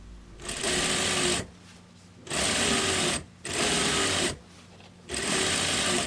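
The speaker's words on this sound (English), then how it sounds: "Flip out the bias tape and edge stitch the bias tape to the seam allowance." A sewing machine edge-stitches bias tape to a seam allowance on a tiered tent dress neckline, running in four loud, steady bursts of about a second each, separated by short pauses. No one speaks.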